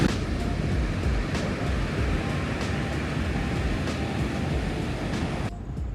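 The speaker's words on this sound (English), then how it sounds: "The sea sounds really loud because it bounces off these rocks here." Sea waves echoing off rocks on the Algarve coast of Portugal, a loud, continuous roaring wash with irregular surges throughout, heard close by and alone until it cuts off near the end.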